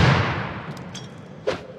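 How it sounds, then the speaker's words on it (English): Grenades exploding on a lift in the video game Rust: a loud blast opens the clip and decays, followed by smaller bangs and a sharp crack near the end. "You want to get the nades on it quite quick."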